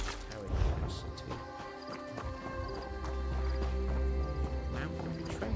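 Horse hooves clip-clop in a medieval fantasy role-playing game from The Elder Scrolls series, a brisk rhythmic clatter laid over a dense bed of game music and ambience, moderately loud and continuous, with no one talking.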